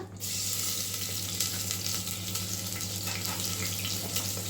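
Green paste tipped into hot oil bursts into a loud, steady sizzle that starts abruptly and holds without pause, close and hissing for a crab curry base.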